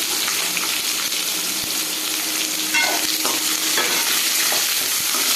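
Onion, garlic, ginger, tomato and chilli fry in a pan with a loud, continuous close-up sizzle. Occasional stirring scrapes sound throughout, and no one speaks.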